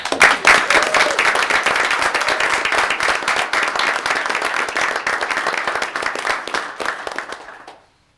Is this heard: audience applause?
yes